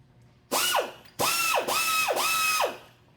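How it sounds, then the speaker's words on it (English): A bucket lifter grinder grinds an engine valve part square at 90 degrees, giving three loud, whining passes, each starting high and sweeping down, separated by short gaps. "come in and actually grind this piece square, 90 degrees"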